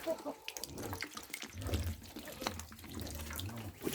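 Water poured into a quail food dish, a quiet close trickle and splash at a tap-like stream, broken by short pauses and handling noises.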